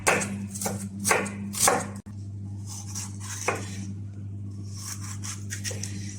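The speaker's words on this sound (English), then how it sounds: "And now I'm gonna start chopping" A knife strikes a cutting board in a quick burst of sharp chops through garlic, parsley and onions, then a few scattered taps over a steady low hum.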